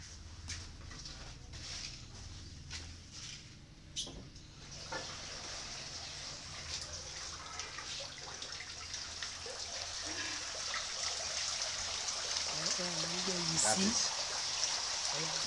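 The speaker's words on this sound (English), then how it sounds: "That's the tap running, and water is coming on the fish, on the fry." Water runs steadily from a tap into a flow-through tank holding catfish fry at a hatchery, a continuous splashing rush that grows gradually louder, with birds cooing nearby.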